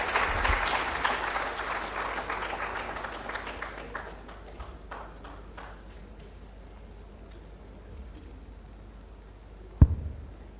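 An audience at a water and environment conference in Uganda applauds, a full burst that fades over about six seconds into scattered claps and room noise, ending with a single sharp knock.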